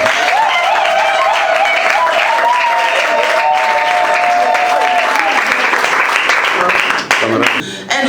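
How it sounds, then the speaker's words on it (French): An audience at a Blind Women Day event applauds loudly and steadily for several seconds, dense clapping filling the room before it tapers off near the end. "Applaudissons."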